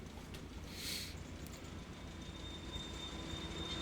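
A BR Blue diesel multiple unit runs in Train Simulator 2019, a steady low rumble of engine and rolling wheels with a brief hissing burst early on, no talking.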